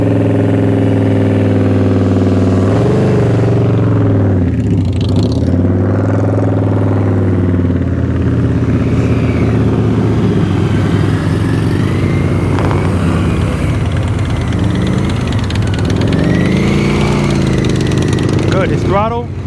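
A motorcycle engine runs steadily at low speed with the throttle held up, a loud, continuous mid-pitched drone during a slow-speed riding practice session, with a person talking over it.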